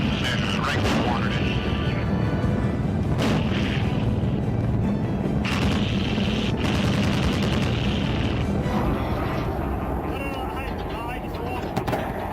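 Artillery rounds fire and impact in a sustained, loud barrage, with several sharp booming blasts standing out over a constant roar of gunfire and engine noise, while voices come and go on the radio.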